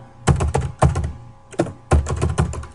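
Keys clatter on a computer keyboard as a title is typed, three quick close bursts of tapping separated by short pauses.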